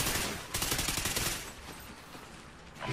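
Automatic gunfire from the Call of Duty Ghosts video game fills the whole stretch: dense, loud bursts of rapid shots with a brief lull before a sustained volley, no talk over it.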